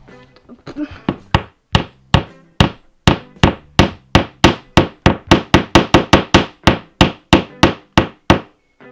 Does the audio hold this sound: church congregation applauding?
no